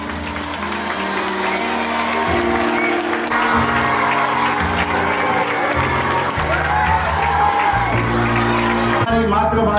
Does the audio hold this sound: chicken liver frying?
no